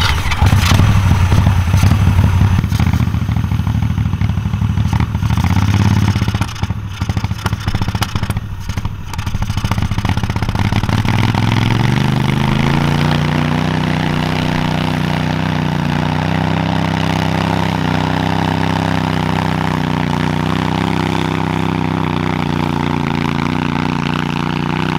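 A 999cc V-twin go kart engine runs loud and steady while towing a four-wheel-drive F-150 V8 truck, starting with a rough, clattering rumble and then settling into a smoother, rising drone.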